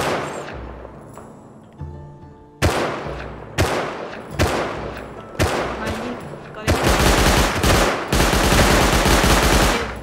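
Loud gunfire in the survival video game Rust: a single shot, then several sharp separate shots and rapid bursts near the end, each ringing out with a long decaying echo, with some talk mixed in.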